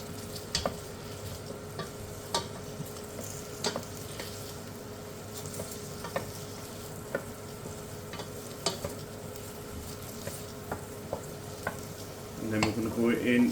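Diced onion stirred through a pot for a rustic minestrone, with a steady low sizzle and a string of sharp spoon scrapes and knocks against the pot, growing busier and louder toward the end.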